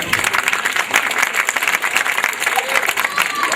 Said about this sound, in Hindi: उन सब के लिए भी एक बार ताली बजा दीजिएगा।